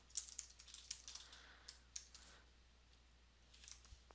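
Soft, quick clicks of a computer keyboard come in an irregular run of keystrokes, faint and close in a quiet room, pausing briefly before a few final taps.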